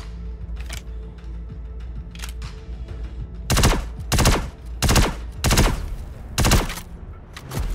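Gunfire rings out in a video game, a series of about six loud, evenly spaced heavy shots at close range over a steady background hum.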